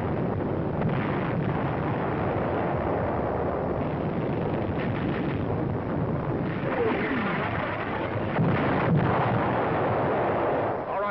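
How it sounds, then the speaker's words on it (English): Artillery fires on a desert front in North Africa, heard as a muffled, continuous rumble with dull booms under heavy wind noise on an old, band-limited field recording. "Our artillery begins to find the range."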